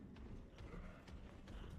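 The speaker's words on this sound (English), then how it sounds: "I hear the stomps." Heavy enemy footsteps stomping in the Morbid Metal video game, a steady run of rhythmic thuds over a low rumbling game backdrop, faint and close.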